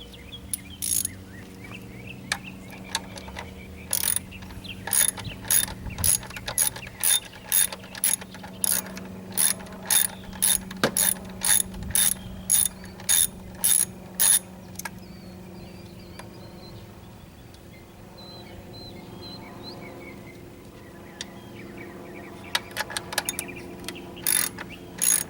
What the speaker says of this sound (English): I need a 8mm wrench for these two bolts